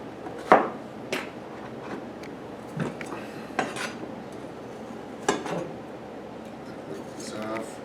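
Cubed butternut squash is spread out on a sheet tray in a home kitchen, producing scattered close clinks and scrapes of pieces and utensil against metal over a quiet background.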